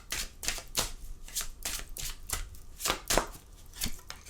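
Tarot cards being shuffled by hand in a quiet room, a run of crisp riffling bursts roughly every half second, close and moderately loud with no talking.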